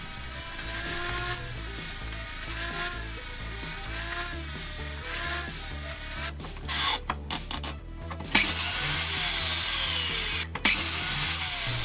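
A power saw cuts 3mm plywood into 50mm strips in a workshop, a continuous loud buzzing whine with several brief breaks and restarts toward the end.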